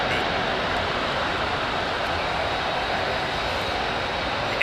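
Qatar Airways twin-deck airliner with Engine Alliance GP7200 engines roaring steadily and loud at close range, a continuous broadband jet rumble with no pause.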